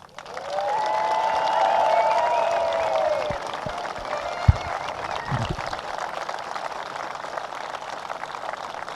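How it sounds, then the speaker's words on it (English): A ceremony crowd honoring veterans at an Honor Flight welcome bursts into a long, steady round of applause that holds for several seconds, while a voice or music tone rises above it early on and fades. "give them, every single one of them, the loudest round of applause and appreciation that we can"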